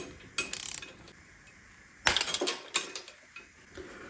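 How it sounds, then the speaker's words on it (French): A bolt being loosened with a ratchet to free the pulley on a BMW N47 engine: a quick run of clicking, then metallic clanks and scraping as the pulley shifts, close and moderately loud. "Donc là, en desserrant, ça va faire venir normalement la poulie."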